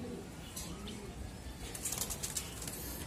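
Racing pigeons flutter in with a burst of flapping wings and soft cooing over a steady outdoor hum, the wingbeats growing busier toward the end.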